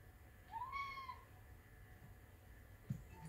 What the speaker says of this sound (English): That's just my cat wanting some milk.